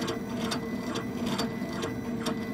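A laser engraver working on a bamboo piggy bank, a steady mechanical hum with rhythmic whirring pulses from the moving head, close and continuous, no talk.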